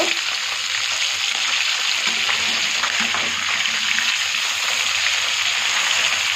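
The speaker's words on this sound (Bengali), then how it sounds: "মাছগুলো আমি এই অবস্থায় হচ্ছে একটু উল্টে দিব" Fish fry in a pan with a loud, continuous hiss of oil, a dense steady sizzle close up that never lets up.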